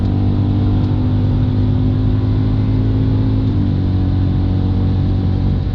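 A BMW E92 M3 CS on the Nordschleife accelerating, heard from inside as a loud, steady engine drone and road roar with a slight rise in pitch, no voices.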